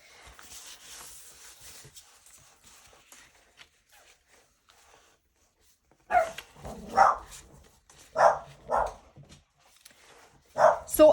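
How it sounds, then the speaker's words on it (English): Dogs bark in several loud, close bursts across the second half, after a quiet stretch of faint background rustling; there is no speech. "I'm filming this and talking at the same time, so you will hear the dogs"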